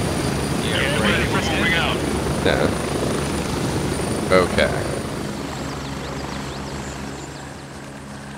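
Helicopter rotor and engine drone in the video game Gray Zone Warfare, a steady loud hum running throughout beneath brief chatter from several players.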